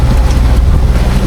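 Strong headwind buffets a sailing boat beating upwind on the open Atlantic in big waves, a loud, continuous roaring rush of wind across the microphone.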